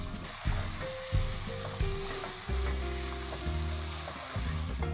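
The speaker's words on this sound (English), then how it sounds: "Stir fry this for a minute or so," Tomatoes and chopped coriander stir fried for a mutton curry, a steady close sizzle with several soft scraping stirs of a spoon through the pan, no talking.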